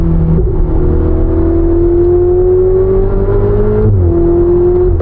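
A Ferrari 488 Spider's 3.9-liter twin-turbocharged V8 revs loudly and steadily up through a gear, then briefly drops on a shift before climbing again, heard close and alone.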